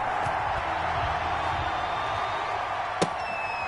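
Video game football stadium crowd before a Baltimore Ravens versus Jacksonville Jaguars kickoff: a steady, loud crowd roar throughout, with one sharp thud near the end.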